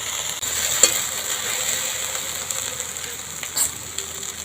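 Okra (bhindi, ladies finger) stirring and frying in a pan for bhindi fry with egg, a continuous close hiss of frying with occasional spatula scrapes and knocks, no speech.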